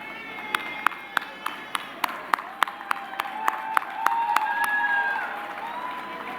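An audience at a formal ceremony in Ghana applauds, starting with sharp, evenly spaced claps in a steady rhythm that swell into a fuller, denser round of clapping from the crowd.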